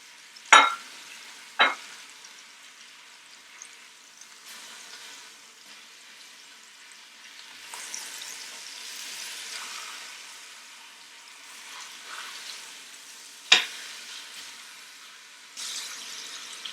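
Barbecue beef browns in an Instant Pot with a soft, low sizzle, broken by a few sharp knocks and scrapes of a utensil against the pot, with no voices.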